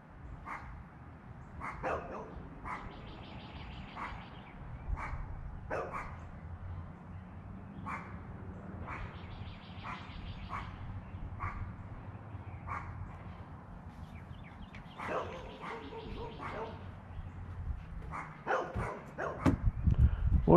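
A dog barks repeatedly over about twenty seconds, with short sharp barks in irregular bursts. The barking sits at moderate distance against steady background noise, and a louder rumble rises near the end.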